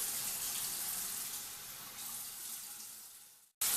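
Water runs steadily from a bathroom sink tap during nighttime face washing, a close, even rushing stream that cuts off abruptly near the end.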